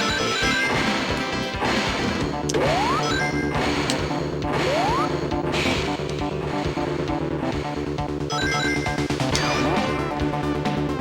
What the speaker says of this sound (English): I really like the arcade-style orchestral hits.